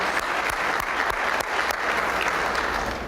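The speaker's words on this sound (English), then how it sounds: "give them another round of applause" Audience at an annual tribute breakfast gives a loud, even round of applause, many hands clapping steadily with a few sharper individual claps standing out.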